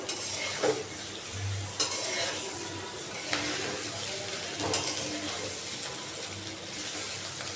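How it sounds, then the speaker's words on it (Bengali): Shing fish are stirred and seared in hot oil, giving a quiet, steady sizzle marked by occasional clinks and scrapes of a utensil against the pan. "এখন আমি তেল দিয়ে দিলাম এখন আমি মাছগুলো দিয়ে দিলাম মাছটা আমি ভালো করে কষিয়ে নেবো"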